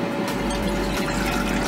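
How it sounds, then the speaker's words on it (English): Filtered water poured from a container into a cooking pot, a brief steady splashing and gurgling stream, close and fairly loud. "pour in the water."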